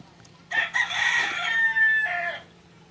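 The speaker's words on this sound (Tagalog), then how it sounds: "Dami nilang manok." Rooster crowing among a yard full of chickens, one long, close cock-a-doodle-doo lasting about two seconds after a couple of short clucks, over a quiet background.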